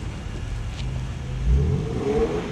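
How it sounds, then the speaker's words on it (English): A car's engine revs up and rises in pitch as it slides through snow on a Brooklyn street during a storm, heard from nearby with a swell near the end. "Do a drift. Drift it"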